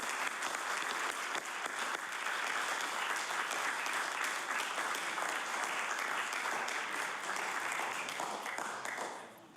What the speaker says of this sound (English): I do ask that the House give you a warm round of applause and congratulations on everything you've done.